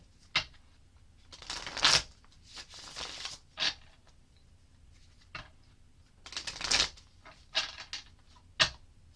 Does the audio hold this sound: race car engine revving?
no